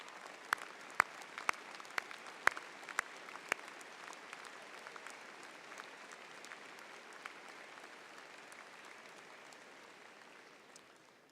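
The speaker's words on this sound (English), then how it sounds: "would the fathers and other family members of our graduates also stand to receive applause from those who are graduating" Audience applause at a Clarkson University undergraduate commencement, a broad crowd clapping with a few sharp, loud individual claps standing out early, then gradually fading toward the end.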